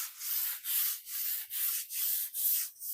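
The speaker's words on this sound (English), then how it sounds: "Okay, I'm going to sand this one." Sandpaper rubbed by hand over a thrifted wooden furniture piece, steady rhythmic scratchy strokes, about seven back-and-forth passes with brief gaps, close and fairly soft.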